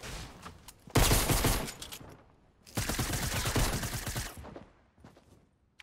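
Gunfire from a white pistol in a video game, fired in two dense bursts of rapid loud shots with short gaps around them, close and alone.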